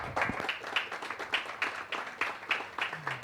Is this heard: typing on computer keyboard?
no